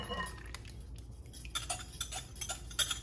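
Utensil stirring pancake batter into dry ingredients in a bowl for lemon raspberry pancakes, giving a run of light clinks and scrapes against the bowl, close and fairly quiet with irregular taps.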